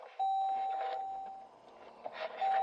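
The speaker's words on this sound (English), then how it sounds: "Beep, beep." Electronic beeps sound inside a car during a drive: two long, clear, high tones, the second coming after a pause, with faint road noise beneath them.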